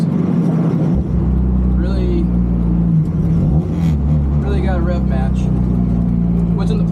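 A car fitted with an Adlerspeed twin-disc clutch revs hard under full boost, its low engine drone rising and falling through rev-matched downshifts, loud and close, with occasional voice sounds over it.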